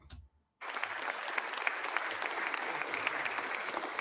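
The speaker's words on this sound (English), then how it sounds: "Somebody clap." Applause fills the House chamber, a sustained, loud wash of many hands clapping that starts abruptly after a brief spoken moment and continues steadily to the end.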